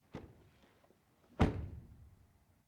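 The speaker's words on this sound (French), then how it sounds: "On commence par le son des portes." Two solid thunks from an Audi RS5 2026 car door being shut, a lighter one first and then a louder, deeper slam about a second later, with a short ring-out and no talk.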